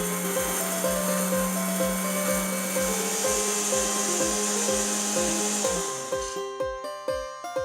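A mixer grinder whirs loudly as it grinds grated copra in a jar, a steady high motor whine with rhythmic rattling that runs continuously before winding down into slowing thumps near the end.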